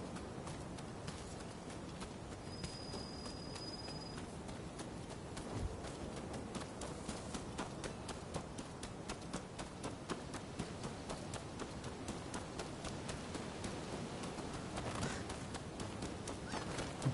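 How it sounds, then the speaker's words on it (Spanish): Horse hooves clip-clopping at a steady run in the samurai action game Rise of the Ronin on PS5, a continuous rhythmic patter over a dense background of game ambience, moderately close and with no talk. "Ahora caballo."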